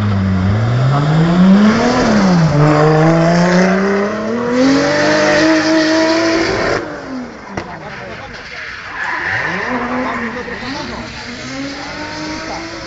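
Nissan 200SX drift car screams through a judged run at a Hellenic Drift Championship event, engine revs rising and falling with long tire squeal and skidding, under excited Greek commentary.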